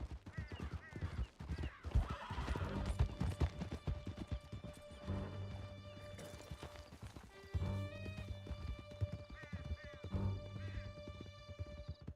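A horse gallops in Red Dead Redemption 2, its rapid, close hoofbeats thudding and clattering under game music and brief calls, with a whinny along the way.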